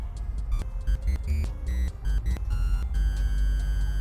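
Soft, hollow 8-bit chiptune triangle-wave tones playing a short, bouncy sequence of notes, fairly quiet over a low background hum.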